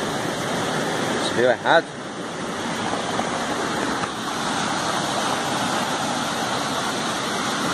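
Rushing water at a waterfall along a walking trail, a steady broadband roar running throughout, with a brief splash or clatter near the start and a person speaking briefly over it.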